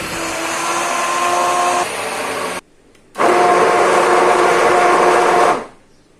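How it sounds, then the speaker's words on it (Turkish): An electric mixer whisks gluten-free, flourless crepe batter with egg and salt, droning loudly and steadily, shifting pitch partway through, cutting out briefly, then whirring again before stopping. "Tüm malzemelerimizi krep kıvamına gelene kadar çırpalım"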